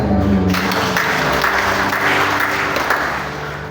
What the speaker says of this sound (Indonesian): Tepuk tangan bagi